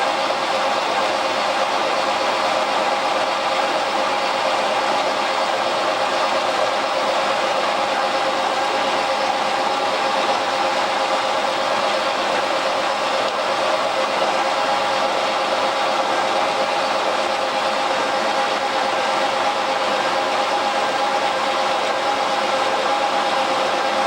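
A lathe runs steadily while cutting a keyway broach bush, giving a constant, even mechanical hum and whine at close range that does not change for the whole stretch, with no voices.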